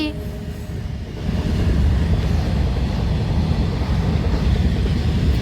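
A train rumbles past close by at full speed, a heavy continuous low roar that swells after the first second and holds steady to the end.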